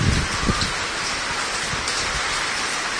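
Heavy rain in Abohar pours down steadily, a dense continuous hiss of drops striking surfaces nearby, loud and unbroken with no voices.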